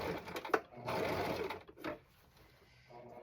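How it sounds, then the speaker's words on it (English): A sewing machine stitches black striped pants in close, loud whirring bursts, a long steady run followed by a shorter one, then quieter handling sounds. "let's sew this together the right way."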